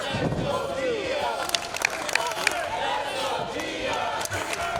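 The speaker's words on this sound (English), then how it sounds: "Crowd is firmly behind the team of Gia Scott and Willow Nightingale." Wrestling fans cheer and yell throughout an intergender tag-team match at a Battle Club Pro show, a dense, steady roar of crowd noise with scattered shouts and sharp impacts.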